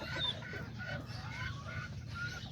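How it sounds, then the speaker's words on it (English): Hens and a rooster clucking in a farmyard pen, a run of short, fairly close clucks and calls repeating over steady low background noise. "I have put these two little hens with this rooster right here"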